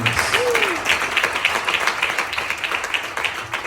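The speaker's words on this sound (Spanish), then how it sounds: "Den un fuerte aplauso al Señor y a todos." A church congregation claps loudly during a worship service, a thick, sustained wash of applause with a brief rising whistle-like tone early on.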